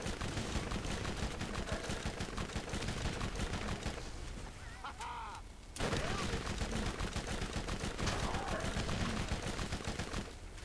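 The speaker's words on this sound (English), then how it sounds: "It's close quarters, might as well use this SMG. Cut them down quite quick." Close-quarters SMG gunfire in the video game Borderlands, dense rapid automatic bursts that run almost continuously and loud, with a brief lull midway before firing resumes.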